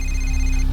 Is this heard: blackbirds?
no